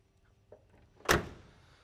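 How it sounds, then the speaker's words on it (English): A 1969 Pontiac Firebird door shuts with one solid, close thunk and a short fading ring after it, with a faint click just before. "Both doors open and close with ease."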